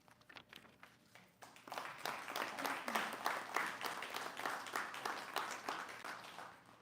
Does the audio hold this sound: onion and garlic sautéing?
no